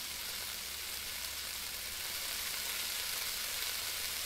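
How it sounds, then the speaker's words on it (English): Steady, hissing sizzle of food frying in a pan in the Cooking Simulator video game, constant and fairly faint throughout with no talking. "I feel like it's fucking screeching, the sizzling noise."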